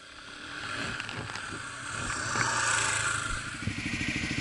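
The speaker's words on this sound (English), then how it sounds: "Here comes KTM." A KTM 690 motorcycle rides past on an off-road trail, its engine building from faint to a closer throaty putter with some clattering, moderately quiet and heard on its own.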